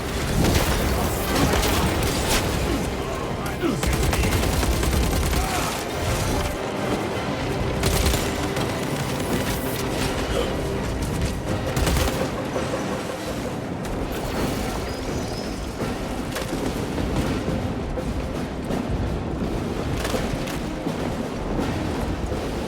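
Sustained gunfire in the Space Marine 2 video game: dense, continuous bursts and booming shots rattle on for the whole stretch, loud and close, with explosions mixed into the barrage.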